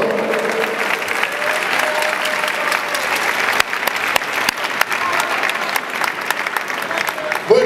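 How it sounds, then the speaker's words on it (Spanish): Steady, sustained audience applause fills a charity gala hall for the mayor of Ourense, dense clapping holding at an even level throughout with a few sharper claps standing out, no talking. "Un fuerte aplauso por el alcalde de Ourense"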